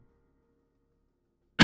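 A single short, sharp cough that breaks a near silence right at the end.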